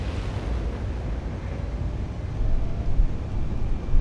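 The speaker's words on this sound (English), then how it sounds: "Rich sound, the engines." Deep, steady rumble of a spaceship's engines in a video game, a continuous low drone with a broad hiss above it that swells slightly toward the end, with no voices.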